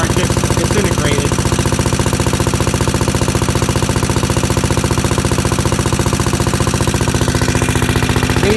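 An antique Onan 101 electric plant engine running close up, with a loud, rapid, steady chugging firing rhythm that continues evenly throughout.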